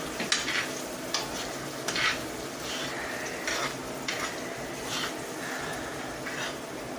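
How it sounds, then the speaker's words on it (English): Banana slices are stirred and coated in a pan of bubbling brown sugar and butter, giving a soft steady sizzle with intermittent scraping strokes and light utensil taps close by, with no talk. "I'm just coating all the slices of banana in brown sugar and butter"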